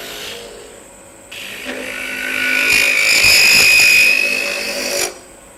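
A wood lathe turns a wooden cross while a 3/8 inch spindle gouge cuts, a rising high scraping whine that swells and fades over a few seconds, close and loud, with no talking.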